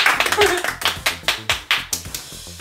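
Quick, bright handclaps for a seven-year-old girl during a board game, a short burst of several claps in uneven rhythm, close by, with a family talking around it.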